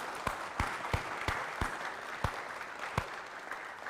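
An audience claps for a Vietnam veteran and a Korean War veteran at a Reagan Foundation Independence Day celebration, light and fairly distant, with scattered sharp individual claps over a soft continuous patter.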